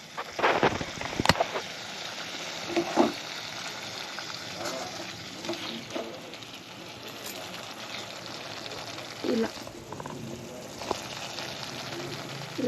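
Food with chili powder and salt fries gently in a pan on a low flame, a soft steady sizzle with occasional clinks and stirring sounds.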